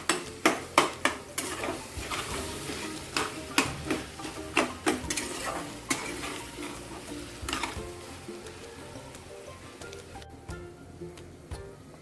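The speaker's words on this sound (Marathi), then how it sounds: "आता हे चांगलं मिक्स करून घेऊ" Brinjal bharit mixture being mixed in a pan, heard as a run of sharp, repeated utensil taps and scrapes, loud and close at first, then thinning out into softer scraping.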